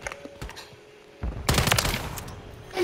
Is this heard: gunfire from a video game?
yes